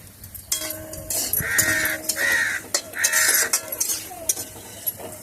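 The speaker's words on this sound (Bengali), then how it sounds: "কাকে ডাকছি, কা কা কা।" Several loud crow caws in quick succession, nearby, over a faint background of kitchen clatter and light sizzling.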